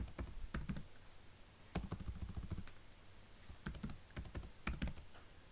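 Keystrokes on a computer keyboard as a report title is typed, quick bursts of close clicks separated by short pauses, with no talking.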